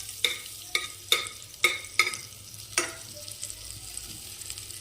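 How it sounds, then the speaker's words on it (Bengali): Butter dropped into a hot pressure cooker, with several sharp scraping knocks of a spoon against the metal at a steady pace over a faint low sizzle, close and without talk. "প্রেসার কুকারটা গরম হয়ে গেলে তাতে আমি দিয়ে দিচ্ছি 1 টেবিল স্পুন বাটার"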